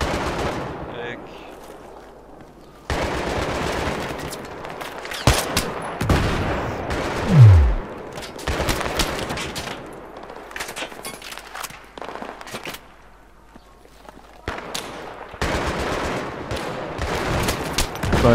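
Bursts of gunfire from the video game Battlefield 3, in the co-op mission Operation Exodus on hard, come in repeated loud volleys with short gaps, over a busy mix of battle noise and occasional voices.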